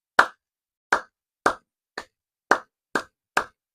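Seven sharp hand claps, spaced evenly about half a second apart. Each one is crisp, close and isolated, with clean silence between them.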